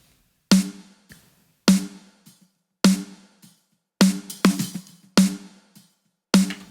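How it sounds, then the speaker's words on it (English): Gated snare drum recording in Ableton: crisp, loud snare cracks, each cut off quickly to near silence, with a few quicker double hits among the regular strikes. "We can hear that snare come through."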